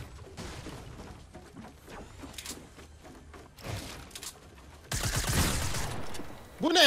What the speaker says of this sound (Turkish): yeni pompalıyı deniyorum